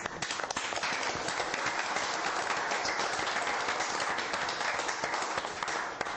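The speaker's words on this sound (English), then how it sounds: "I'd like to give them a round of applause." A round of applause for youth mentors at a county board of supervisors meeting, a dense even patter of clapping heard from some distance and lasting steadily.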